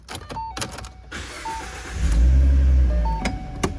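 A 2014 Ford Mustang V6 Premium starts with a brief electric whir of the starter, then the engine catches with a deep low rumble that settles into a steady idle, heard close from inside the car.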